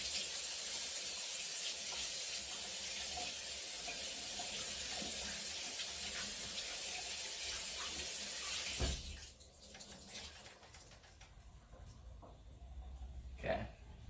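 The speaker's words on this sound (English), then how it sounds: "Let me just run a little bit of hot water over this." Hot water from a tap gushes in a loud, steady hiss over frozen meat in a sink, then cuts off sharply, leaving quiet handling noises and faint sounds after it.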